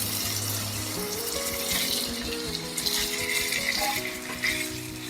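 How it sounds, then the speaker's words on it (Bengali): Washed, well-drained chicken pieces fry in hot oil for a chicken curry, giving a steady crackling sizzle with brief louder spatters under soft tonal background music, and no one speaks. "আমি মাংসগুলোকে খুব ভালো করে একটু নেড়ে চেড়ে ভেজে নেব।"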